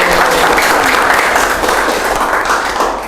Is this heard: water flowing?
no